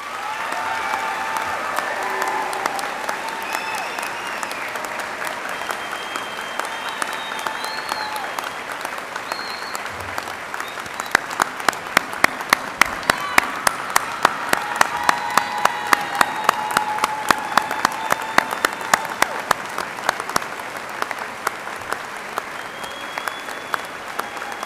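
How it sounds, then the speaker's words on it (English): Sustained applause from a large crowd at a 2022 commencement ceremony honoring military service members, steady and broad throughout, swelling into denser, sharper clapping midway. "Please give them a round of applause."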